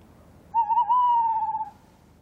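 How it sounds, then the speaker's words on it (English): An owl hooting at night, a single clear wavering hoot lasting just over a second, close and distinct against a quiet background with no talk. "An owl! A real owl!"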